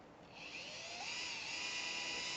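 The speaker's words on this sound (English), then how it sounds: "Drill down just a little bit first, make a notch, angle it back, drill at the back side." A power drill whines steadily as it bores a notch into a cigar box guitar, the pitch holding high and even at close range with no talk over it.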